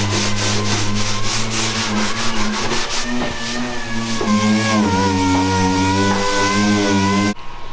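A power sander works over hardened body filler on a truck cab, giving a loud, steady droning whine with a continuous gritty rasp that holds throughout, with no talking.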